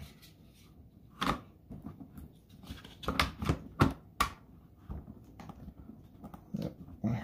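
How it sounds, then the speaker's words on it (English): A Bentley tricycle wheel assembly being pushed back onto its axle, giving a few sharp nearby clicks and knocks spaced irregularly between quiet gaps. "we're going to pop this whole wheel assembly back on. Make sure it clicks in there."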